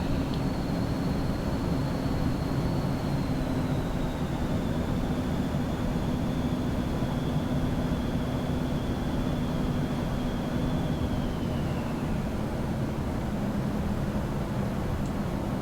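Steady cockpit roar inside an Eclipse 550 business jet in X-Plane 11, a dense broadband whoosh with a low drone and a thin high whine that sweeps slowly downward, loud and unbroken throughout with no talking.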